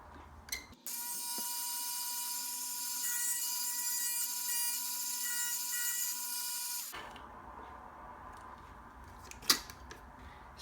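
A 1.5 mm carbon fiber plate for a Tamiya Mini 4WD stabilizer is cut in half with a steady, close rasping grind of about six seconds that stops abruptly, followed by a quiet handling knock.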